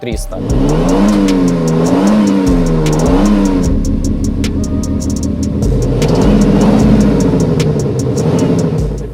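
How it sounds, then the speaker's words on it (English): A Toyota Land Cruiser 300 engine rumbles loudly through an iXSOUND active sound exhaust, revving up and down in repeated swells with a deep, throaty tone. "Now this car has a loud, powerful sound that can always be adjusted and turned off."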